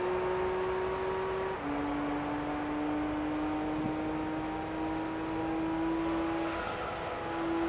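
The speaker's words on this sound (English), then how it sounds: "Let's open up this RB26 one more time" A Nissan 400R with its RB26 engine in Gran Turismo 3, holding a steady high drone at full throttle along a straight, the pitch dipping briefly at a gear change and then climbing slowly again.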